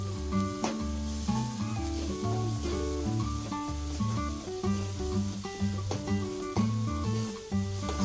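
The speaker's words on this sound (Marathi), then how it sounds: "त्यामध्ये आता आपण आलं लसूणची पेस्ट टाकली आहे." Ginger-garlic paste sautés with onion and tomato for a Malvani crab curry, producing a continuous crackling sizzle that runs steadily beneath prominent background music.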